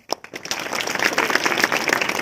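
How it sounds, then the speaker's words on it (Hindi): Audience clapping at a school seminar in an intermediate college hall, starting after a sharp clap and building into steady, moderately loud applause that continues to the end. "तो सबसे पहले उन मूर्तियों के लिए हम एक बार हृदय से तालियों से स्वागत कर दें"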